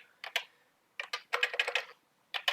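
A terminal command is typed on a computer keyboard: short clusters of quick, crisp key clicks with brief pauses between them, close and fairly quiet, with no voices.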